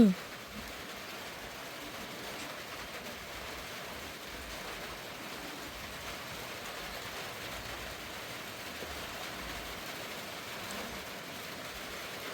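Steady rain falls around a home in Thailand, a continuous close hiss of drops on surfaces that holds an even level throughout, with faint talk at times.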